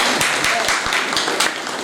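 Audience applause for the Club Social y Deportivo Progreso, marking its 85th anniversary at a community heritage workshop showcase in Villa Lía, Argentina; steady close clapping with a few sharper claps standing out, continuous for about two seconds.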